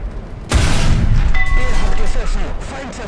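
A single heavy 88 mm tank cannon blast in a video game, heard from inside the tank, with a deep thud, then a rumbling tail as it fades, faint voices underneath.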